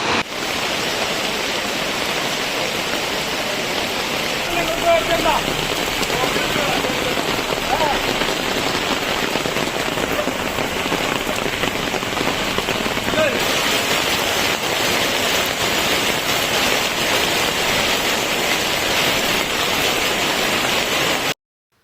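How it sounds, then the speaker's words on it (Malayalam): Heavy rain with wind floods the roads during the first storm of the season, a loud, dense, unbroken roar of falling water lasting throughout, close and steady with no voices. "അരമണിക്കൂറോളം ശക്തമായ മഴയായിരുന്നു."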